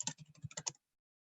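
Brief burst of typing on a computer keyboard, about eight quick keystrokes in under a second, close and fairly quiet, followed by silence.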